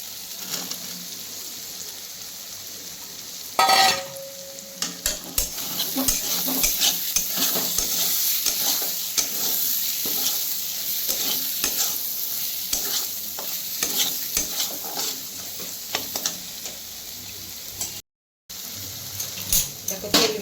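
Potatoes frying in oil for a prawn kofta curry, a constant close sizzle broken by frequent scrapes and knocks of a spoon stirring against the pan, with one brief sharp clatter early on.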